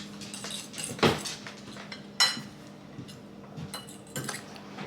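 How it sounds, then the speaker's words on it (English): Mozzarella being mixed into egg whites in a bowl, with a utensil clinking and tapping against the bowl in irregular light strokes, a few sharper clacks standing out over a quiet background. "So I'm mixing the cheese up with the egg whites"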